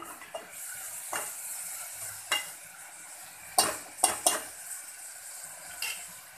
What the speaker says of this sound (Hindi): इसको हम अच्छी तरह से चला लेंगे।